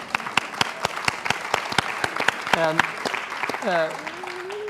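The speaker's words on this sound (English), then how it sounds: "Well, you were getting applause." An audience applauds during a panel discussion among faith leaders on the environment, with sparse, distinct claps that give way to a voice starting to speak.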